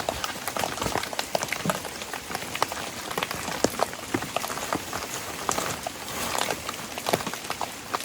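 Steady rain pattering on a surface at a farm pond, dense and constant, with scattered sharper drops throughout.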